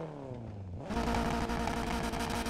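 A car with a 2.0 engine, a built-up four-cylinder, idles briefly and then blips into a loud, raspy exhaust roar that holds steady and close.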